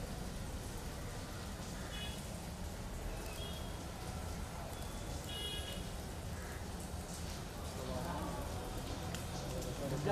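Rain falls steadily outdoors at a funeral gathering, a continuous soft hiss throughout, with people talking in the crowd and faint traffic noise underneath.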